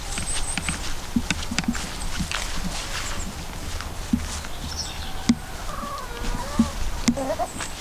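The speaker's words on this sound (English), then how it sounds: "The first job is to go and let the hens out." Backyard hens are let out of their coop in the morning: faint clucks and scratchy shuffling footsteps sit over a steady outdoor hiss, with a few louder knocks and a short call near the end.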